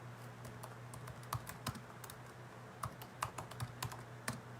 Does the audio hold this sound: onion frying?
no